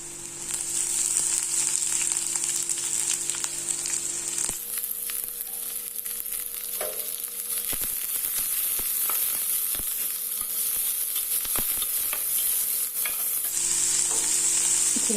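Onion and carrot sizzle in a hot pan for pasta, a constant loud frying hiss with frequent scraping stirs close by, the hiss briefly changing character midway, and no speech.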